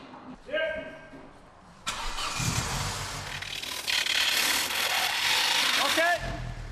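A car engine cranks and fires up after its exhaust box is replaced at a workshop, catching and settling into a loud, steady idle that runs on after a brief moment of talk.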